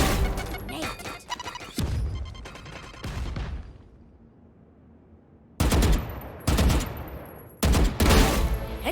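Rapid gunfire in the Valorant shooter game: sharp, loud bursts of shots in quick clusters, with a brief lull before several more volleys close by.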